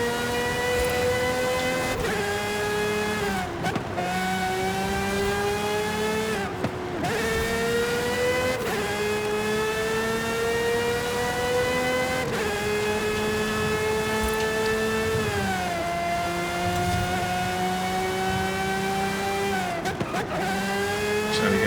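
Engine of an S2-class car in Forza Horizon 5 (video game) holds a loud, steady revving drone across the whole stretch, its pitch climbing between a few sharp gear-shift dips, with no talking over it.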